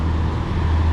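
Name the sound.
passing truck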